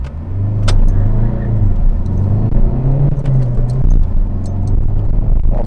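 Reprogrammed stage 1 DS3 launching hard from a standstill: a loud, close engine note climbs steadily through the revs, with a deep continuous rumble and brief clicks near the start.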